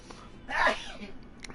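A single sneeze from a character in the video game Persona 5 Royal, sharp and fairly loud, set against a low background hum.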